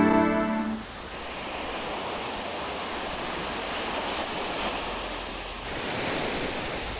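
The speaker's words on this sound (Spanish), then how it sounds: "Esta es la playa al sol de Viña del Mar." Surf rolling onto the nearly empty sunlit beach at Viña del Mar, a continuous wash of breaking waves with gentle swells in loudness, heard alone after a brief tonal sound at the start.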